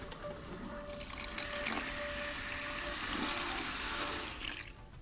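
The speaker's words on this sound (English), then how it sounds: "So by flushing, we will try to get all the drilling waste away from the chamber." Water flushed through a pressure relief hose into a bucket while fitting a Vexve ball valve, a steady loud rushing and splashing that runs the whole time without a break.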